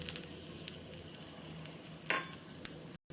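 A tadka of ghee with ginger, garlic and two dry chillies sizzles steadily in a pan for spinach paneer, a soft constant frying hiss with a brief spoon stir and a light clink.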